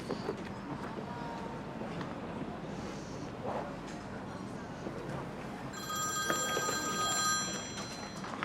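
A telephone rings in the second half, a bright electronic ringtone repeating over a quiet indoor room with soft background noise.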